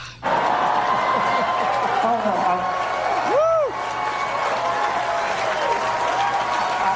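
An audience at a Star Wars fan event breaks into loud, sustained applause with scattered cheers and chuckles, dense clapping holding steady throughout, with a brief whistle-like tone rising briefly midway.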